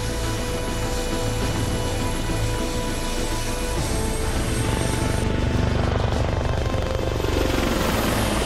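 Army helicopter during a ride, its rotor and engine roar a loud, steady, unbroken drone from start to finish with no voices.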